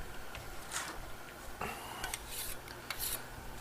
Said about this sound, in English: So I got my trowel, kind of like an angle for burnishing.